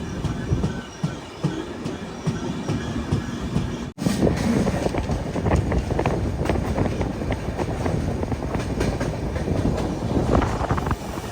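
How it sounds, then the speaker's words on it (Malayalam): A weekly sleeper-class express train heading from Madgaon to Ernakulam rumbles along the rails toward Thrissur, with continuous loud wheel noise and rhythmic clickety-clack, heard up close from inside the carriage. "അങ്ങനെ തൃശ്ശൂരിലേക്ക് നമ്മുടെ ട്രെയിൻ എത്തിക്കൊണ്ടിരിക്കുകയാണ്."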